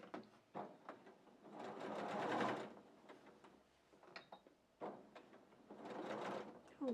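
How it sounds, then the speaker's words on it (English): Sewing machine stitching fabric for a wall hanging project, running in three separate bursts of fast mechanical whirring with quiet handling and clicks between them. "I'm just sewing as far as the pin that shows where my opening starts or finishes."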